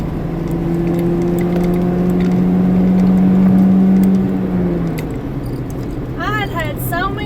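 A car's engine drones steadily on the road, its low hum rising slightly as it builds toward passing another vehicle, then easing off; a voice talks over the engine noise.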